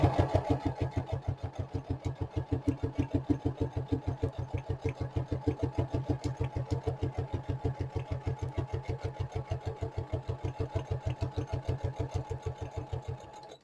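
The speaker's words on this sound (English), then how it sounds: "I'll just make sure I stitch relatively close to the fold" A sewing machine stitches along the fold of a file folder for a tall lap book cover, a steady rapid mechanical chatter of needle strokes running unbroken and close throughout.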